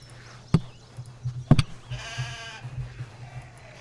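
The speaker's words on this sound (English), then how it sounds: "So we got double Anger Sheeps coming in." Two Anger Sheep from the video game CHKN give a short, clear bleat in the middle of the clip, framed by sharp thuds from the game before and after it.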